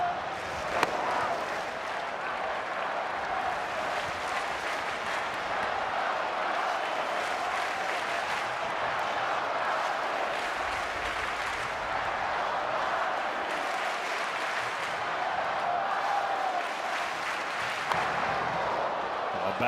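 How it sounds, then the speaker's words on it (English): Baseball crowd at a Cubs–Cardinals game at Wrigley, a steady roar of cheering and applause from a large stadium audience that holds constant throughout, with brief louder claps rising out of the din. "And that gets the crowd going."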